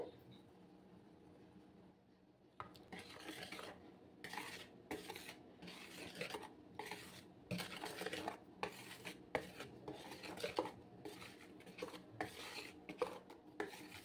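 Flour and cocoa powder are folded into chocolate cake batter with a steady series of close, soft scraping and rubbing strokes against the bowl, beginning after a brief quiet stretch and continuing rhythmically.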